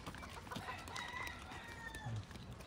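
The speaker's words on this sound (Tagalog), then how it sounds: "Ayan yung mga manok, mga kaibigan." Chickens and a rooster in Maui in the early morning give faint clucks and distant crowing calls against a quiet outdoor background, with no talk.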